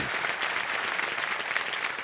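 Studio audience at a Hindi television quiz show applauding a contestant, a dense, even roll of clapping from many hands that stays steady throughout.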